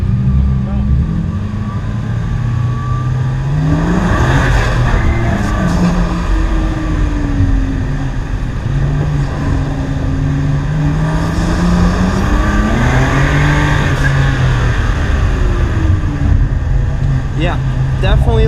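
A BMW M3 accelerating hard on a race track, its loud engine note climbing and falling through repeated rev surges as it pulls through gears and corners, heard steadily from inside the car.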